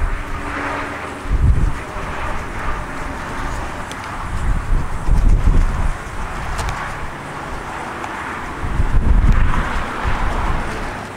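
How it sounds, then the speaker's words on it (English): Strong wind buffets an outdoor microphone, a steady broadband rush with heavier low gusts swelling and easing every few seconds, loud and close throughout, with no voice over it. "but let me tell you, it is windy out here"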